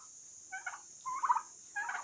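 Turkeys gobble while eating bananas, giving three short, warbling gobbles spaced about half a second apart, moderately close over a faint steady hum.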